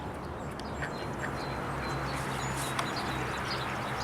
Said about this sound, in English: But there's even more ducks than that.